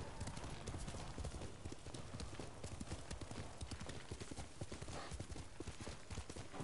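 A horse's hooves clip-clop in a steady walking rhythm, close and distinct, continuing evenly with faint background sound throughout.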